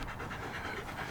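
Several dogs panting close by, a fast steady rhythm of soft breathy huffs at low volume for a brief moment, with no talking.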